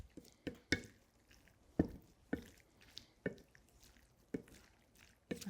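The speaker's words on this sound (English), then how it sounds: "I'm just stirring this parsley." A spoon stirs fresh parsley through mushroom pasta in a pan, giving soft wet squishes and light knocks against the pan at a loose, irregular rhythm, close and quiet without talk.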